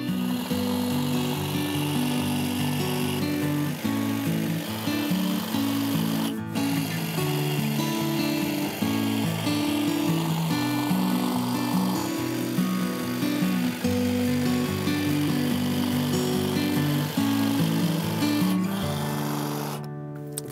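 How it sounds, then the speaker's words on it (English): A battery powered hedge trimmer clips box topiary into shape in a garden, a continuous close buzzing motor whir with uneven chattering as the blades cut, lasting about twenty seconds with a brief dropout midway. "this is just a battery powered hedge trimmer, so just need to switch it on"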